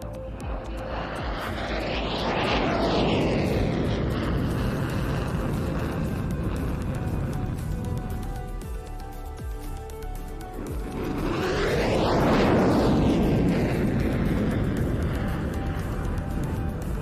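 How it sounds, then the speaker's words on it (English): Bomber aircraft passing at an air show at Fairford, a loud jet roar that swells as it nears, sweeps by with a falling pitch, then builds again for a second pass. "This is your bomber"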